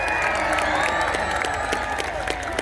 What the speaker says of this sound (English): Biggest cheer ever, come on!